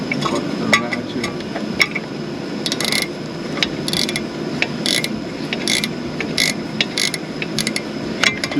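A ratchet clicks steadily on the alternator of a 1993 Cadillac Allante, with rapid metallic pawl ticks in repeated bursts over a low mechanical background, close and alone.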